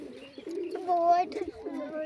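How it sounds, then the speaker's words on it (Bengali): Pigeons, a female and a male, coo close by in a soft, wavering run with a clear rising call in the middle, while someone speaks over it. "এই দেখো বন্ধুরা, এটা জাগ মাদি পায়রা, এটা এটা নর"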